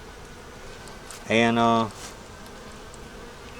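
Honeybees from a four-frame nuc holding queen cells give a short, loud buzz lasting about half a second, rising clearly above a quiet background, with a brief spoken word nearby.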